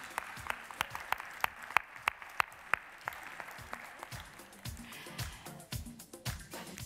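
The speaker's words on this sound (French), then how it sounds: "On les applaudit bien fort" Applause at a French corporate awards ceremony in Florange, honouring ZF Lemforder Metal France: scattered, fairly sparse claps with several sharp, loud individual hand claps standing out, continuing steadily for several seconds.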